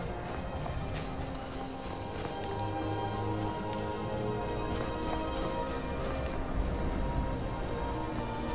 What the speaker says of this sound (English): Well, still raining.